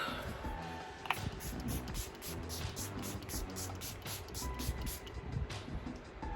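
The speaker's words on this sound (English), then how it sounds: "I'm gonna set my face with this Milani Make It Last Original Natural Finish Setting Spray" Rapid repeated hissing sprays, about a dozen short even bursts from a Milani Make It Last setting spray pump bottle onto a face, close up and fairly quiet.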